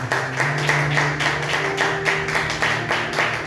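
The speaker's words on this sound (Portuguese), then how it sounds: "Aplauda bem forte o nome do Senhor." A church congregation claps hard and rhythmically in unison, a steady pulsing beat of many hands over a sustained musical drone, with no talking.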